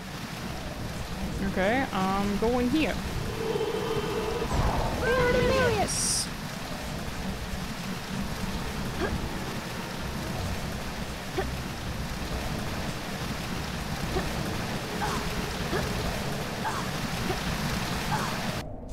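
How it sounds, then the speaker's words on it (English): A massive waterfall in the Harry Potter and the Chamber of Secrets video game roars as a steady, broad wash of falling water throughout, with someone talking and exclaiming over it and brief game chimes. "Oh, massive waterfall!"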